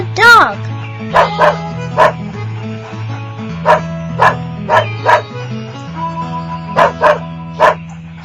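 A voice imitates a farm dog barking, giving about a dozen short, punchy woofs in an uneven rhythm. The barks are close and loud, with a low sustained musical tone underneath.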